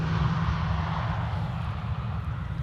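An EasyJet Airbus A319 airliner arriving from Liverpool gives off a steady, loud low engine roar that holds evenly the whole time, with no talk over it.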